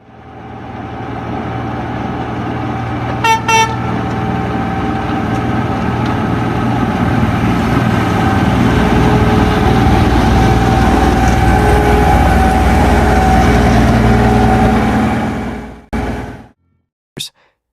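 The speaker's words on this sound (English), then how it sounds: "Norway's railway snowplow in action." A Norwegian railway snowplow train works along the line with a steady, heavy low rumble that swells and holds, broken early by a brief high squealing burst, then fades out near the end.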